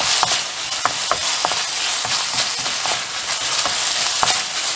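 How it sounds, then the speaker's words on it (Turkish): Beef tantuni frying hard in a pan with water splashed over the hot meat, a loud, steady sizzle broken by light scraping and stirring clicks, close and continuous. "Bu aşamada biraz böyle tantuniciler gibi şöyle su dökeceğiz."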